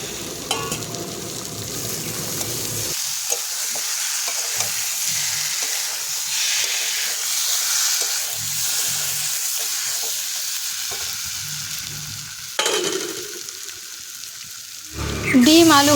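Taro, potato and a fried egg sautéing in a pan over a wood-fired clay stove, an even frying sizzle with stirring that carries on for a long stretch, a faint voice underneath and a sharper clatter near the end.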